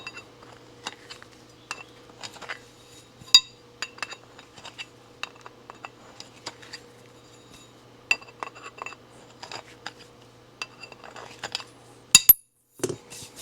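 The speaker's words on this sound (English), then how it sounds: "we'll just hit all the holes we just drilled with a deburring tool." A deburring tool scrapes and clicks around freshly drilled holes in a fabricated rear sprocket for a Yamaha Trailmaster 100 YL2C, giving sparse, irregular metallic ticks and scratches over a faint steady hum, with a sharper clank near the end.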